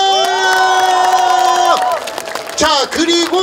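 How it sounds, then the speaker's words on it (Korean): A crowd at a township day festival in Ancheon-myeon, Jinan, cheers and shouts in short bursts around a bright sustained tone, with voices rising and falling close by. "우리 안천면민 여러분들 모두 축하드리면서 박수!"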